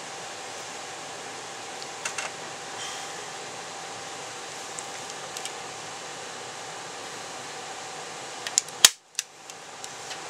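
A staple driven into a walleye fish mount, one sudden sharp snap from a staple gun after a stretch of quiet room hiss and faint handling.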